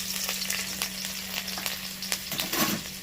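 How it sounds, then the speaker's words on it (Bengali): Chopped garlic and green chilli fry in hot oil for a restaurant-style chicken kosha, giving a steady close sizzle with scattered crackles and pops that swell near the end, with no talk. "এই তেলের মধ্যে দিয়ে দিচ্ছি ছোটো ছোটো করে কাটা রসুন আর কাঁচা লঙ্কা কুচি"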